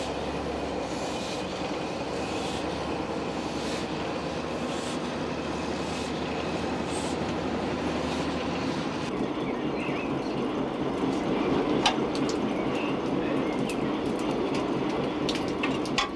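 A running train, pulled by the steam locomotive 413 on a Vivarais heritage railway, rumbles steadily and loudly, with its wheels clicking and rattling throughout.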